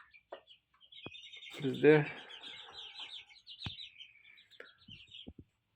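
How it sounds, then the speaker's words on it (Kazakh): Chicks in a brooder peep in a steady stream of thin, high chirps, close by and fairly faint, while a person talks briefly in the middle. "мына жаққа шапталық балапандарды салып қойдым"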